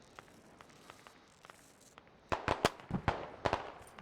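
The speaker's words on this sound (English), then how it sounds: "Grenade goes off." A grenade goes off in the military shooter Squad as a cluster of sharp, loud bangs and cracks after quieter scattered ticks, sounding fairly close.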